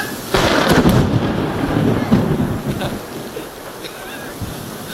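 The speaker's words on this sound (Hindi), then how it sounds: "देखो एकदम ज्यादा गरजना है।" Thunder rumbles through heavy monsoon rain, a loud broadband roll building near the start and sustaining under the steady downpour, with no voices.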